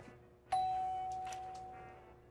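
A TV advert doorbell gives a single sharp ding that rings out and fades slowly over about two seconds, with no second tone, in a quiet room.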